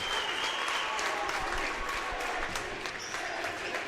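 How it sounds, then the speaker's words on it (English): A girls' high school basketball crowd at a sectional final roars with sustained cheering and applause as the underdog team seals a big win, a dense, steady wall of noise throughout. "you hear the chant from the Pavilion crowd as Lindsay Lau celebrates with her teammates"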